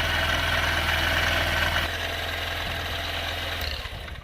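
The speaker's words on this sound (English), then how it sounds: "that idle's a little bit high now." A 2023 Honda CB125F fitted with a Yuminashi throttle body idles a little high, giving a steady, close, even engine hum and rapid chug that holds for the whole stretch without speech.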